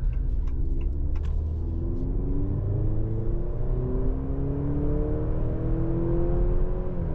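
Maserati Grecale Modena SUV engine droning steadily at high speed on a German autobahn, loud and close with rising gear-by-gear harmonic sweeps over constant road rumble, no voices.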